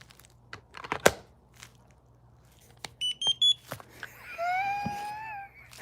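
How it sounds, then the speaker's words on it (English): A heating electronic device gives a quick run of three or four sharp, high electronic beeps, followed by a rising, wavering tonal whine, with scattered clicks and handling knocks nearby. "Did you hear that beep? That is the beep of your doom."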